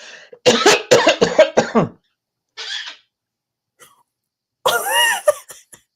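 A burst of a person's coughs comes first, then after quiet pauses a pet answers with a cough, imitating the first with raspy, hacking bursts.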